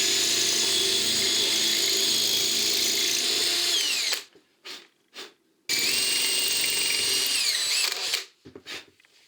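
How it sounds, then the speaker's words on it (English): A power drill grinds loudly into brickwork behind plasterboard in two long bursts, each cutting off abruptly and followed by brief quieter bursts and pauses. "just keep drilling the full length of your plug"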